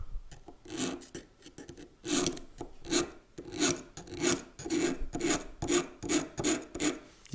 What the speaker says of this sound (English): I'm going to scratch right here.